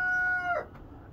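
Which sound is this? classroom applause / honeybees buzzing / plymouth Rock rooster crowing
plymouth Rock rooster crowing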